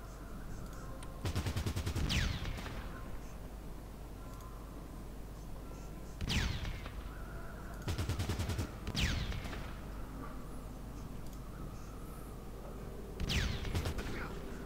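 Bursts of gunfire from the Fallout Tactics: Brotherhood of Steel video game come in short repeated volleys, several rapid automatic strings spaced a few seconds apart, loud and close over a low steady background hum.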